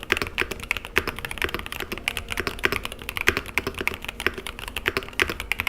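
Rapid typing on a 75% keyboard with pre-lubed Gateron double-rail magnetic switches, a dense stream of close, crisp keystroke clacks with occasional heavier strikes, continuous and without talking.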